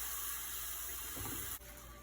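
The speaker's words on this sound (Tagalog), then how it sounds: "Lagyan na po natin siya ng tubig para pakuloy na po natin siya para lumambot." Water pours steadily from a tap into a cooking pot for chicken sopas, a continuous splashing gush close by that briefly changes tone and shifts near the end; no talking.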